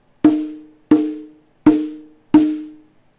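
Four ringing open tones struck on a conga, evenly spaced and loud up close, each with a clear pitched resonance that decays before the next hit.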